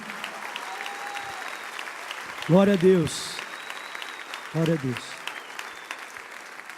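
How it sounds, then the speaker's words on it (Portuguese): A church congregation applauds through a worship service, a steady wash of clapping under a voice speaking twice over it. "Pode aplaudir em nome de Jesus."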